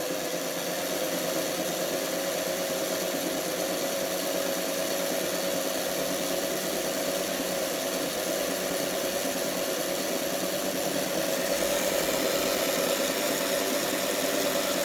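A 1959 Tri-ang Jinty model locomotive's small electric motor runs steadily at about 10 to 11 volts, giving a continuous close buzzing whir with a faint mechanical rattle and no voices.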